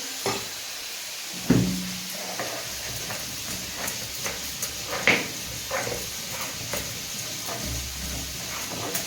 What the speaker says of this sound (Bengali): টমেটো ভাজা হচ্ছে